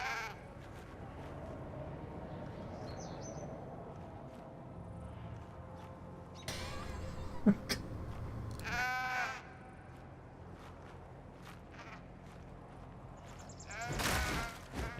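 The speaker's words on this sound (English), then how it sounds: "Dude, that sheep is tanky." Sheep bleats from a video game sound out in a few short bursts, loud and close, with people talking over the game audio.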